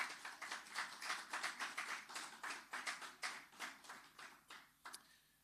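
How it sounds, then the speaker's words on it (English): Faint, distant clapping at a Ministry of Finance and Public Service commission launch, a thin, fairly even patter of hands that loosens and dies away near the end. "Please give them a round of applause"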